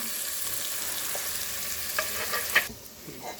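Onions frying with garlic-ginger paste in a pan for a winter vegetable dish: a steady, bright sizzling hiss with a few stirring taps, dropping away abruptly near the end.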